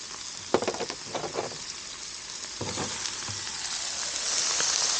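Hamburgers sizzling as they fry in a pan, with a steady crackling hiss that swells toward the end, broken by a few brief louder spatters and clatters early on.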